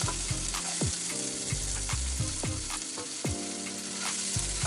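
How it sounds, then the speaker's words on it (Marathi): Finely chopped medium onion and cumin seeds fry in ghee for spinach dal khichdi, giving a steady, loud, close sizzle with repeated scraping stirs of a spoon against the pan and no talk. "आता आपण या कांद्याला छान प्रकारे गुलाबी रंग येईपर्यंत तळून घेणार आहोत"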